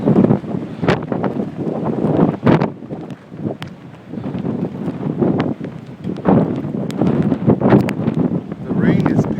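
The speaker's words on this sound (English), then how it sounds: "we're getting another big gust" Strong gusting wind during Hurricane Sandy in New York, a loud broadband roar buffeting the microphone in surges, with boats nearby and a voice talking over it.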